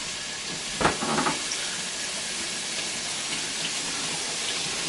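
Hamburger meat cooks in a pan with a constant loud hiss, a brief sharper sputter and stirring noise early on, then an even sizzle without speech.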